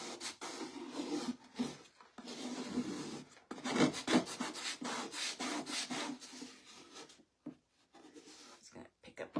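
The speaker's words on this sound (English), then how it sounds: "just kind of lifting up the angle of the scraper to get a good scrape" A scraper is dragged over a surface to lift off chalk paste in repeated raspy strokes, a fairly quiet rubbing texture with brief pauses between passes.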